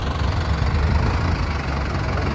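A heavy tractor engine idles steadily and loudly, a low rumbling chug with no other sounds on top.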